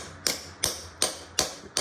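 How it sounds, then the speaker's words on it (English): A hammer taps a socket five times at an even pace, driving a Welsh frost plug into an engine block on a Suzuki APV; each strike is a sharp, close metallic knock with a short ring. "just take the socket, just sit it in there, and take a good hammer and just give it a bit of a tap"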